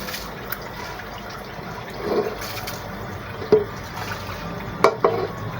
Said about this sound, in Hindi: ये देख लीजिए चावल मैं डालने लगी हूँ।